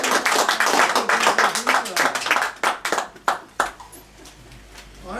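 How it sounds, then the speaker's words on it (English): An audience at a Sunday church gathering claps in a burst of applause that thins into a few scattered claps and fades out, close and lively, with a voice briefly heard amid it. "let's give a nice round of applause to Reverend Dusa Althea"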